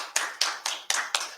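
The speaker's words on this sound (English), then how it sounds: "Let's invite him with a round of applause" Five distinct hand claps at a social protection conference, isolated and evenly spaced, from just one or a few people close by rather than a full crowd.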